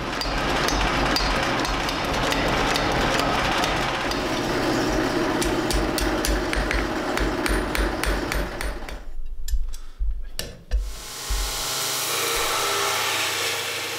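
Repeated hammer blows ring out while forging a traditional folded-steel knife blade, an integrated kogatana with blade and tang in one piece, loud and steady for about nine seconds before sputtering out into a hiss.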